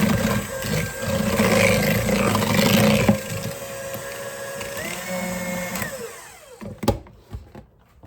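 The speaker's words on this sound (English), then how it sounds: "I've got my mixer here, and we're getting ready to whirl it up." An electric mixer whirls peach cream pie filling with a loud, steady motor whine that shifts pitch as it works, then winds down and stops with a few clunks near the end.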